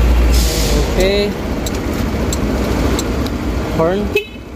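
Yamaha motorcycle horn sounding twice in short bursts, near the start and again near the end, over steady background rumble, with people talking throughout.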